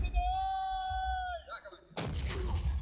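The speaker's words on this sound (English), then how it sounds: "So we're just sitting there lobbing shells at each other." Tank shells firing in the WWII video game Men of War, a sudden heavy blast with rumbling aftermath after a tonal whine and low engine rumble, loud and close.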